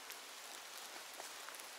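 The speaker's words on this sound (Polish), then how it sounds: "A deszcz jak padał, tak pada." Steady rain falls in a forest during a mushroom-picking outing, an even hiss of drops on leaves with a few faint nearer taps, quiet and continuous with no voices.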